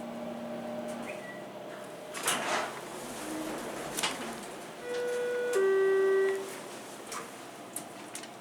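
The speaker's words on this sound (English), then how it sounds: "Door close button works." A Schindler 330A hydraulic elevator at a hotel shuts its door with a sliding rumble and thump, followed by a steady hum and tonal beeps, all fairly close and without talk.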